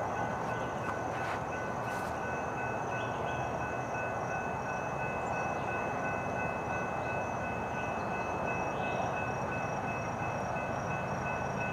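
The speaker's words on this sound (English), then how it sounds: "The morning train, FEC101." A train, FEC101, rumbles steadily past, with a constant low roar and a high sustained tone running through the whole stretch.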